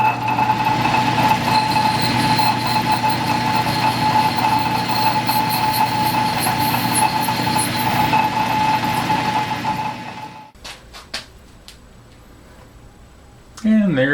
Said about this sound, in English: Now I've got a parting tool in here, and this will make a groove right there and cut off 50 thousandths of this stock